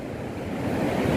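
Surf at Pasir Putih, a white sand beach stretching along the coastline, washes in a continuous broadband rush with wind noise, loud and close, no voices.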